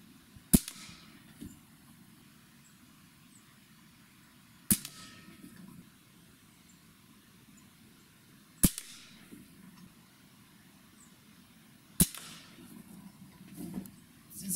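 A Black Bunker BM8 air rifle fires four separate sharp shots spaced a few seconds apart, each a crisp snapping crack with a short tail, against quiet room tone.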